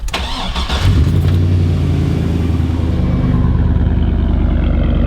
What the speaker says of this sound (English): turn the truck on and listen for the crank